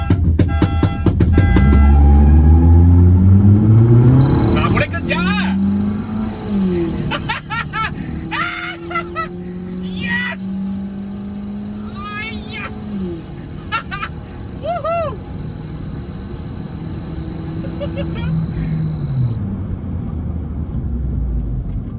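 A Perodua turbo car launches with its boost raised, the engine revving loudly and sweeping in pitch with a thin turbo whistle on top, while people talk over it throughout.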